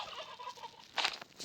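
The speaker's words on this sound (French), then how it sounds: "Oh, c'était les dindes." Turkeys gobbling in a forest: a rapid warbling, bubbling call followed by a louder burst, moderately distant and faint, with no talking.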